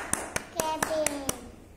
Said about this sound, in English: Clapping. Yes, it's clapping sound.